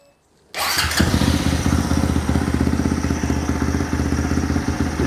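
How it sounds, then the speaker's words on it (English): A 2022 Honda Monkey 181 motorcycle engine starts abruptly after a quiet moment, then settles into a loud, close, steady idle with a rapid thumping rhythm and some mechanical clatter. "Let me go ahead and crank this thing up for you guys."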